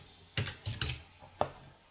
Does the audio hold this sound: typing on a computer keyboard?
yes